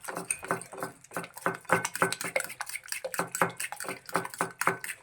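A utensil beats French toast batter in a bowl, quick rhythmic clinking and scraping strokes repeating steadily and close by for several seconds.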